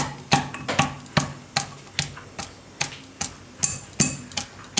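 Steady, rhythmic pounding of garlic in a mortar: about a dozen sharp, hard knocks evenly spaced, close and fairly loud, with no talking.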